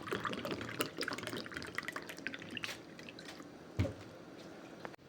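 Water being drunk, evidently mouth-made rather than real, with a voice imitating wet sips and drips as a string of small clicky, squishy sounds and one sharper gulp near the end, close and fairly quiet.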